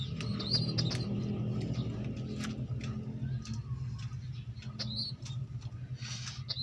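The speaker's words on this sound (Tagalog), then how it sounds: "dalawang YB natin kalapatids" Pigeons coo in low, steady murmuring tones close by, with scattered sharper chirps and small rustles layered over the continuous soft cooing.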